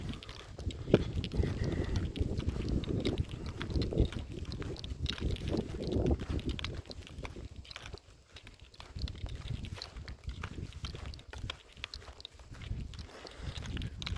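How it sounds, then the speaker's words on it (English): Gusty wind buffeting close by during an evening forest walk, with rough low rumbles that rise and ease, along with faint scuffing like footsteps underneath. "It's very windy now."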